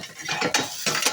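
Vintage butter knives clink and rattle against each other as they are handled, a few quick metallic jingles close up in a brief burst.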